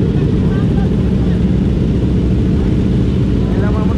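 Loud, continuous engine roar of motorcycles on a group ride rolling past close by, a dense drone filling the whole moment with voices calling out over it.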